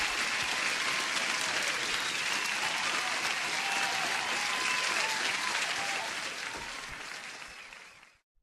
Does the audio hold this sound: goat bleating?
no